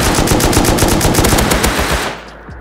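Rapid automatic gunfire in the survival game Rust, a dense burst of loud repeated shots for about two seconds that then cuts off, leaving quiet.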